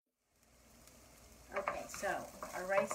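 Aromatic vegetables and rice sautéing in a pan for Spanish rice: quiet at first, then a rising, crackling sizzle with bursts of stirring scrapes, close and steady.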